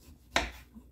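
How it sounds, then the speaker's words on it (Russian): A single crisp knife chop slices through a lemon on a cutting board in a home kitchen, one sharp close-up thud followed by quiet. "Теперь буду нарезать наш лимон."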